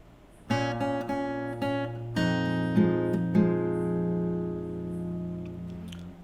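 On fingerstyle acoustic guitar, a further passage follows a brief quiet start: several plucked chords and melody notes, close and clear, then a sustained chord fading out.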